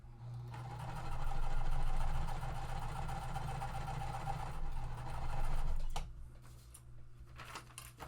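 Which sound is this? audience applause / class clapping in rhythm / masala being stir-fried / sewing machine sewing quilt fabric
sewing machine sewing quilt fabric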